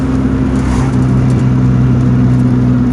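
A Ford Probe GT engine with an HX35 turbo drones loud and close, a steady mid-pitched hum with whirring overtones held at high revs, no voices.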